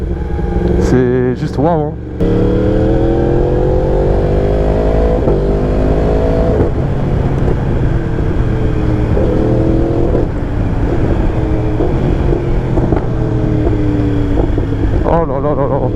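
A 2019 Yamaha R1 sport motorcycle revving hard, its loud engine note climbing and dropping through quickshifter up and down changes, close and continuous, with a man briefly exclaiming over it.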